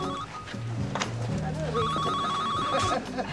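An old-style telephone bell rings indoors in a Swedish TV drama, sounding in bursts of trilling rings with quiet gaps, while people speak and move about nearby.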